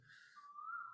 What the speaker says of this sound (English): there's a bird outside my window